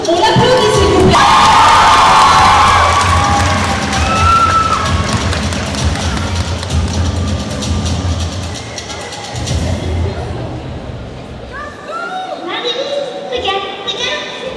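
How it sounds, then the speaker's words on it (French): A large crowd at a manga convention contest cheers and applauds loudly, with whoops and shouts sustained over several seconds before easing into a quieter murmur and scattered claps. "On l'applaudit s'il vous plaît."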